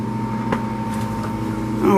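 Inside a ship's engine room, machinery produces a steady, loud droning hum with tonal whine, broken by a brief clank and a rising clatter at the end.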